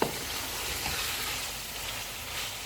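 Chicken karahi with green chillies and ginger frying in a wok, Peshawari style, with a steady close sizzle that holds throughout, no talk.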